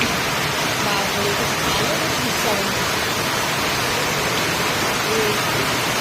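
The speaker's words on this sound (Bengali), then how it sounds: "বৃষ্টির আওয়াজ দেখো" Heavy rain pours down steadily, a continuous broad hiss that fills the whole stretch without letting up.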